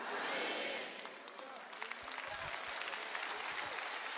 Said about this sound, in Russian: Дай хорошие Богу аплодисменты